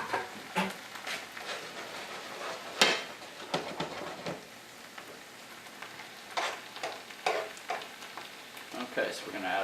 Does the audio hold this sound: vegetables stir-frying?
yes